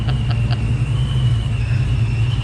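A car with a stock engine, upgraded heads and cam, and a Vortex centrifugal supercharger runs with a steady low rumble and a thin, sustained high whine, close and continuous.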